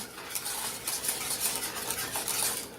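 Vanilla being whisked into hot pudding in a pot, a fast continuous close whisking swish and light metallic scrape, steady and alone.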